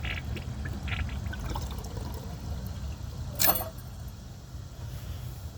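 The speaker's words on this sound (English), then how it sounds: "It's kind of draining too fast for the tank to refill." A 2002 Kohler Gabrielle toilet, clogged, drains while its tank refills, giving a steady low watery rush with a brief splashy burst midway, close by.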